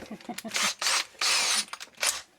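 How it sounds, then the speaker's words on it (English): A power drill whirs in three short bursts, each lasting about a second, separated by pauses with faint rattling and handling noises. "Right, so let's just drill."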